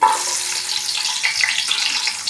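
Curry leaves and onion hit hot oil along with fennel seeds, giving a bright, continuous hissing sizzle close up, without any talking.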